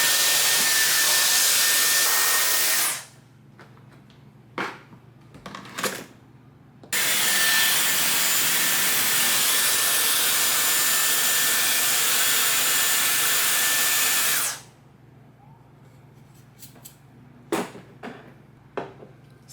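A Dyson Airwrap with its brush attachment blows hair dry in two long, loud bursts of steady broadband airflow, separated and followed by brief quieter gaps with small handling noises.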